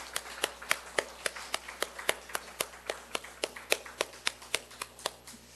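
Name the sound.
congregation clapping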